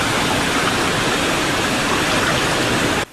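Loud, steady rushing of river water flooding a village in Nkokwali after its bridge collapsed, a dense close roar that cuts off abruptly at the end.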